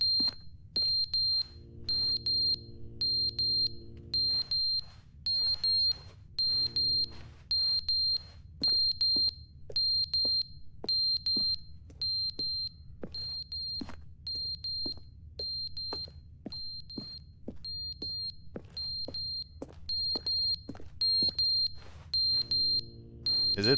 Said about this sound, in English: Where's that beeping coming from?